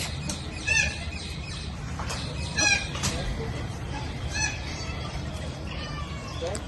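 A peacock at a zoo gives a few loud, brassy calls in short bursts, with other birds squawking and clucking nearby over a steady outdoor hum.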